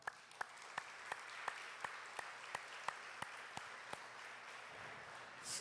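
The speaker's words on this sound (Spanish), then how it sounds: "Dale un aplauso al Señor." Church congregation clapping in a steady, rhythmic beat, faint and roomy, about a dozen evenly spaced claps before it trails off.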